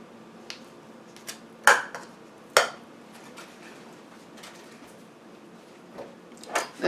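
A bowl of butter is set down on a kitchen counter. Several sharp clinks and knocks are separated by quiet gaps, with a few soft taps near the end.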